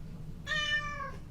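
A cat meows once close to the microphone, a clear, loud, drawn-out call lasting under a second over a low background hum.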